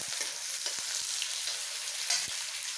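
Onions and tomatoes fry in a pan for homemade pasta sauce, producing a soft, continuous sizzle with a few light spoon scrapes against the pan and no talking.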